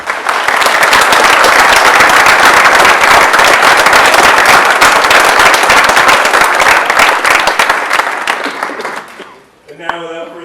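Loud, close applause from the audience at a career center celebration of learning, dense rapid clapping that holds strong and then fades out, followed by a brief voice.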